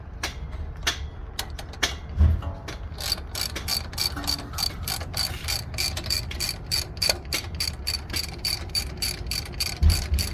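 Ratchet wrench working on the front brake of a 2019 Honda Pilot, with rapid metallic clicking strokes that come in bursts and then grow steady and repetitive, close by, with a couple of dull knocks and no talking.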